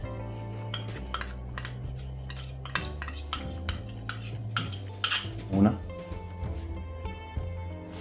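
A utensil stirs and clinks against a bowl as cleaned, peeled shrimp are mixed with salt, cumin and garlic marinade for grilled fish, with repeated sharp clinks and scraping under a talking voice.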